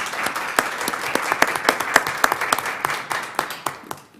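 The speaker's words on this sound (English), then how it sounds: "great applause for her" A room at the El Paso County Commissioners Court meeting applauds a recent UTEP graduate: brisk, moderately loud clapping from a modest crowd, with individual claps standing out before it tapers off over about four seconds.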